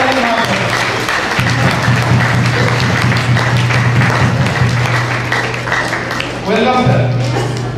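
Applause from an audience at an RCM celebration event in a guest house hall as a guest speaker is welcomed on stage; steady, dense clapping fills the room throughout, with a low hum beneath and a brief dip near the end.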